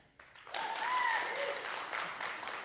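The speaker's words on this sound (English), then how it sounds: "The rabbi clapped for me, so we'll call it a tie." Applause and clapping from a live podcast audience at Tufts, swelling quickly to a sustained crowd clap that holds steady, with a few whoops or voices rising above it.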